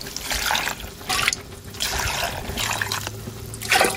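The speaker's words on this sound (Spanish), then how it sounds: "Le vamos a poner caldito." Broth poured into a blender jar with lettuce and other ingredients for mole verde, a close liquid trickling and splashing in several short bursts, with no talking.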